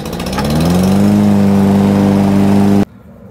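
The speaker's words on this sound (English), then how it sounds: "this has got to be the easiest pushing lawnmower I have ever used in my entire life" A Toro Vortex push lawn mower runs steadily while cutting tall grass, its engine rising to a loud, even drone that holds for nearly three seconds and then cuts off abruptly into near quiet.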